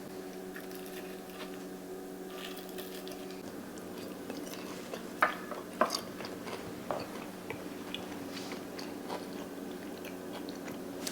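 Someone bites into and chews fried green bananas served alongside deep-fried catfish with red beans and rice, a few crisp crunches standing out over quiet background hum, with no talking.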